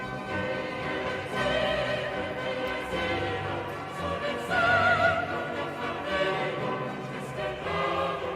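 Orchestral music recording for a new album, played back in stereo: a full, broad ensemble texture with sustained tones and shifting swells, continuous and moderately loud, with no voices over it.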